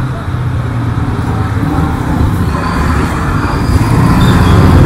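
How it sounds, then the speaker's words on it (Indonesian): Heavy road traffic with many big trucks passing near a toll road construction project in Bekasi, a loud continuous rumble of engines and tires that grows slightly heavier toward the end. "Banyak truk gede di sini,"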